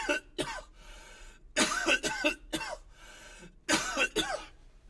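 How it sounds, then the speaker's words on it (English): Several harsh coughs in clusters, two people coughing close by, some overlapping, with brief pauses between bursts. "Me and Dad are both coughing at the same time."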